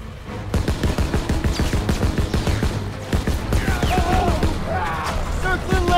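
Rapid gunfire in Call of Duty WWII, with loud repeated shots in a dense fusillade and shouting voices mixed into the battle noise.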